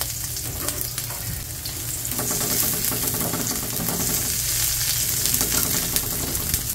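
Chopped onion sizzles steadily in hot oil in a pan as sweet and sour sauce for lapu-lapu begins, a loud continuous frying hiss with crackle, no talking.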